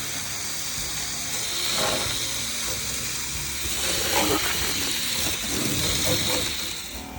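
Water sprays steadily during the second soak down of a boat, a broad hissing wash that swells and eases as the spray moves across the surface.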